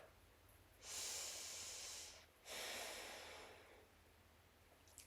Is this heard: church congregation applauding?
no